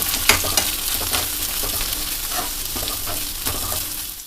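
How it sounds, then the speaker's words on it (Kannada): Chopped carrots fry in a pan with a steady close sizzle, broken by scraping, clicking stirs of a spoon near the start and middle, fading slightly at the end with no talk. "ಈಗ ಕ್ಯಾರೆಟ್ ಎಲ್ಲ ಸ್ವಲ್ಪ ಫ್ರೈ ಮಾಡಿದ್ದೀನಿ"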